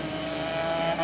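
AX 100 novice-class racing motorcycles at a Cibao motor-speed championship round, engines droning steadily and loudly at high revs throughout a brief moment with no talk.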